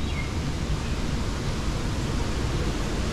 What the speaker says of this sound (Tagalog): May konting waterfalls.